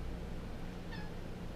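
A cat gives a single short, faint meow in a home kitchen, heard over a steady background hum with no talk.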